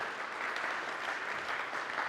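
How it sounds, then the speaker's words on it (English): Church congregation applauding during a Sunday service, a soft, even wash of many hands clapping from across the room, fairly distant and continuous. "And give them a round of applause."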